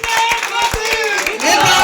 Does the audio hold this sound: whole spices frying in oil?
no